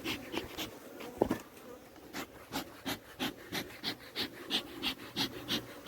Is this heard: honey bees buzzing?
yes